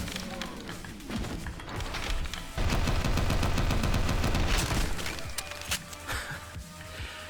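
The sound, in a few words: gunfire in the video game Maximum Action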